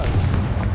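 A Confringo spell explosion in the Hogwarts Legacy video game, a single deep, booming blast that rumbles low and loud through the whole moment with no one speaking.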